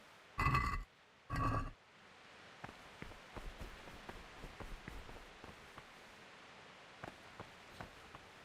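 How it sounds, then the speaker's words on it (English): Rain falls in Kingdom Come: Deliverance with a soft, steady patter and scattered drips, after two loud grunting vocal bursts at the start. "it's raining outside"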